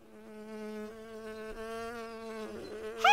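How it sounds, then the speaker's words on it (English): Cartoon bee buzzing in the quiet countryside, a continuous droning hum that wavers in pitch and grows louder near the end. "Hello, Buzzy Bee."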